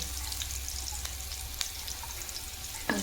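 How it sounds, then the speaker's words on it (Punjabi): Chopped ginger frying in oil in a pan, heard as a steady soft sizzle throughout with a few faint clinks and scrapes of a utensil, no talking. "ਦੇਖੋ ਥੋੜਾ ਜਿਹਾ ਅਦਰਕ ਨੂੰ ਭੁੰਨ ਲਈਏ"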